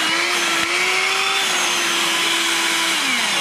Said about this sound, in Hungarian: Morzsa porszívók között talán az egyik legerősebb szívó teljesítménnyel rendelkezik.